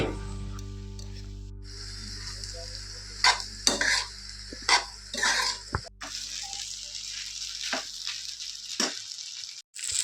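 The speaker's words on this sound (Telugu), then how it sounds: "దాంట్లోనే మనం రెడీ చేసుకున్న పాస్తాను వేసుకొని బాగా కలుపుకోవాలి" Cooked pasta is stirred through a hot pan with salt and a little turmeric. Distinct scraping spoon strokes come in bursts over a low sizzle, with quiet pauses between them.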